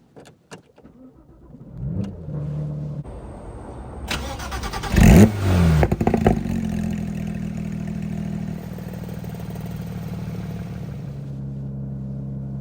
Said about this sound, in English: We're gonna do a little cold start for you.